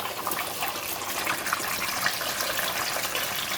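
Fish lowered slowly into a pan of hot oil for deep-frying, giving a steady, dense hiss and sizzle that stays loud and even throughout.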